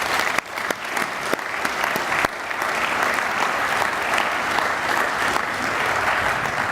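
Audience applause at a university reunion opening assembly for the advancement team, a few sharp claps at first swelling into a full, steady roar of many hands clapping that holds evenly to the end.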